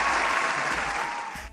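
Enthusiastic applause from a studio audience, a dense, loud burst of hand clapping sustained for over a second before trailing off slightly.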